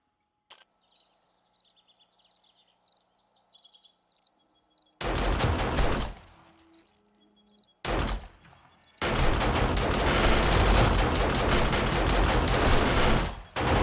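Automatic turrets fire during horde night in the video game 7 Days to Die. After quiet chirping ambience, dense, loud rapid-fire gunfire erupts in long bursts, with a brief pause between volleys.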